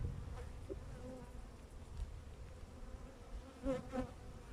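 Honey bees hum at an open hive, a steady low dense buzz filling the clip, close and fairly quiet, with a couple of louder individual buzzes flying past near the end.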